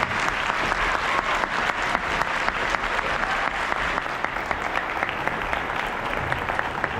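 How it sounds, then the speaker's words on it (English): Steady, full applause from a school audience for a middle school band and its director, even and continuous throughout with no talking. "How about another round of applause for Mr. Chavez and the middle school band?"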